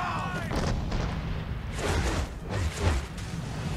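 Naval cannons fire from a sailing ship in Assassin's Creed III, several heavy booming blasts with rumbling tails rolling close together over a low, noisy backdrop of wind and sea.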